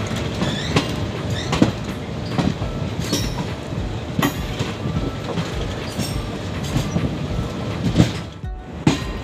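A Garib Rath Express train running on rails near Sugauli Junction in East Champaran, with continuous rumbling and rhythmic clickety-clack of wheels over rail joints, some sharp knocks and faint wheel squeal.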